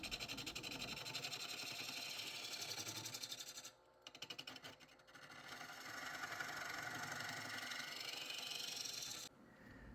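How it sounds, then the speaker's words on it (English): A half-inch spindle gouge flattening the bottom of an ash bowl on a wood lathe gives a steady, close cutting whir with a brief dip in the middle and an abrupt stop near the end. "Here I'm using the 1/2 inch spindle gouge and flattening it."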